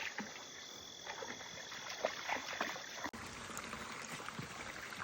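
A small creek runs over bedrock near a little waterfall edge, giving a steady, moderately close broadband babble of flowing water with small splashy bursts throughout and a brief dropout near the middle.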